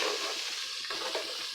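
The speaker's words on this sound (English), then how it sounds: "While frying your onions, you add your curry powder" Onions fry with curry powder in a pan for a chicken stew, giving a steady, close sizzle with a few stirring scrapes and no voices.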